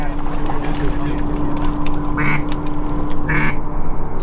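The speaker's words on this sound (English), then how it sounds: "Ducks out front, ducks out front," Ducks quack in short nasal bursts during an opening-day mallard hunt in Pennsylvania, two clear calls rising over steady wind and a low engine-like drone, with hunters' voices in the mix.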